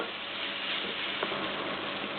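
Steady, continuous sizzling and crackling from a hot pan as a spice paste is fried and stirred for keerai rice, close by with no talking.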